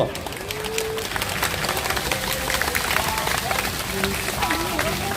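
A crowd of construction workers and citizens at a Wednesday protest rally claps continuously, a dense, lively burst of applause from many hands, with some voices calling out over it.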